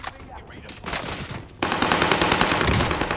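Rapid automatic gunfire from Call of Duty Cold War multiplayer, loud and close, with a denser, heavier burst of sustained shots kicking in partway through.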